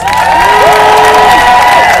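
Loud audience at a Q&A event in Brooklyn, New York cheers and whoops, voices overlapping in a dense roar that stays steady throughout.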